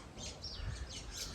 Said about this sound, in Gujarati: ચકલીએ માળો બનાવ્યો છે